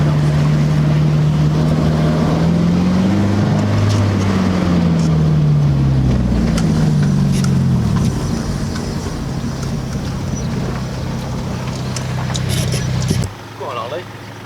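Car driving along the A537 Cat and Fiddle road, a continuous engine drone with shifting pitch as it accelerates, heard from inside the car under people talking.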